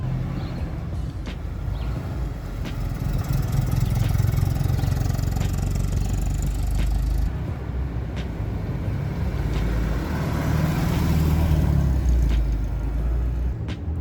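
A BMW E30 318i driving, its engine a steady mid-pitched drone with road rumble, fairly close and continuous for the whole stretch, with no talking.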